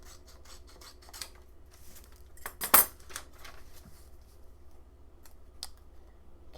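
Scissors trim a journal page to a straighter edge with a few faint close snips and paper rustles, one sharper crisp cut standing out midway against a quiet background.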